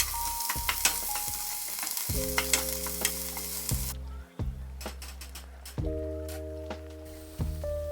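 Onions frying in a pot with a pinch of salt, stirred now and then: a steady broadband sizzle under scraping stirs, with a low steady hum running through and a few brief clicks.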